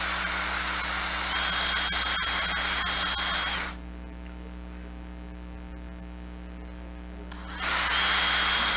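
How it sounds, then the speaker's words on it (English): A power drill whirs steadily at close range, its pitch shifting as the bit bites into wood, then cuts out for several seconds before starting again; no voices. "And then just drill"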